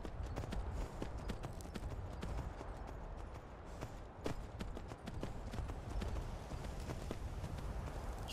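Horse hooves clip-clop steadily at a trot in the video game Skyrim, a continuous rhythmic patter of hoofbeats close by with faint ambient noise underneath.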